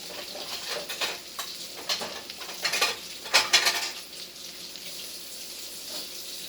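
Water being drawn from a kitchen tap into a dish while cooking. Irregular splashes and spoon-like clinks sit over a thin, quiet running stream, with a few louder bursts midway before the sound settles.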